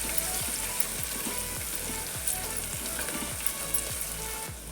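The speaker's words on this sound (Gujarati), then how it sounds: "ડુંગળી થોડી ગોલ્ડન બ્રાઉન કલરની થાય ત્યાં સુધી આપણે એને શેકી લઈશું." Sliced onions sautéing with ginger garlic paste in a pan for masala khichdi, giving a steady, close sizzle with faint stirring scrapes throughout.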